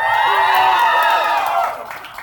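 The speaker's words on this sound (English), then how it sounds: "Can you give me a cheer if you're a student?" Crowd of people cheering and whooping at an outdoor gun control rally in Carlisle, a loud sustained burst of mixed voices that tapers off near the end.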